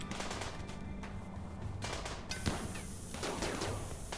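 Colonists firing guns in the video game Rimworld: a few sharp synthetic gunshot cracks, one standing out at mid-clip, over a steady game backdrop with tonal hum, fairly close and moderately loud.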